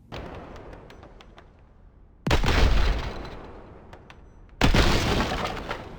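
Two bursts of rapid automatic fire from the TMP machine pistol in Resident Evil 4 Remake, each a loud, dense rattling volley of a couple of seconds that tails off, with a quiet gap between them and no talk.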